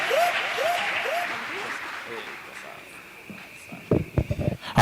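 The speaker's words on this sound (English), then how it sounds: "Yeah, clap for her." An audience claps for someone speaker at a Siasa Place 10th anniversary celebration, steady applause that fades under talk before a few louder, closer claps near the end.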